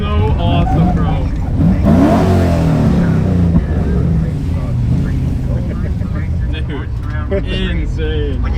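A drift car's engine roars loudly and revs hard while the car slides, heard close up from inside with excited passengers talking over it.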